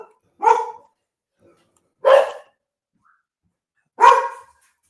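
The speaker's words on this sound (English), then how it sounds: "My dogs like to bark." A dog barks three times, each single bark spaced about two seconds apart, loud and close against otherwise quiet surroundings.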